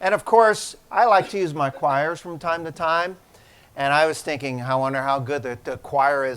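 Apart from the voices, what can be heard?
No everyday noises stand out.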